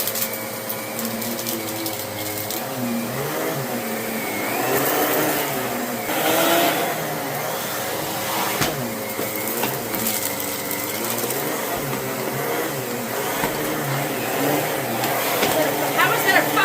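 A Kenmore Pop-up 600 Series canister vacuum runs on carpet with a steady motor drone and shifting pitch as it moves, close and continuous, while a person talks over it.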